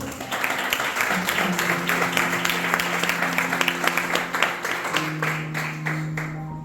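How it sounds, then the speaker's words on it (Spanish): A church congregation claps loudly and steadily throughout, a dense crowd applause with sustained tones from an organ or keyboard underneath and a short spoken line near the end. "¿Le puede dar un fuerte aplauso al Señor?"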